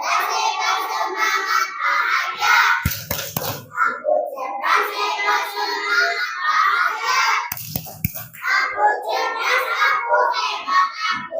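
Young pupils in an Indonesian classroom chant together in a lively sing-song pattern, punctuated twice by clusters of crisp group hand claps, loud and close throughout.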